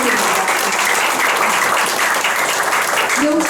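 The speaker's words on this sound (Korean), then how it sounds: "김학도님께 다시 한번 감사의 박수 부탁드립니다" Sustained audience applause filling a lecture hall after a talk on Korean economic and democratic development, steady dense clapping throughout with a faint voice rising near the end.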